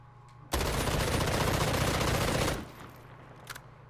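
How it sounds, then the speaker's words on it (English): An assault rifle in Call of Duty Modern Warfare fires from the hip in one sustained automatic burst of about two seconds, loud and close, then stops abruptly with a faint click after. "Let's try hip firing this thing at a different target."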